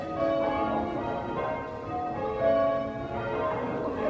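Church bells ringing changes, with overlapping peals tumbling in a continuous, evenly paced sequence at moderate distance, steady and unbroken with no talk.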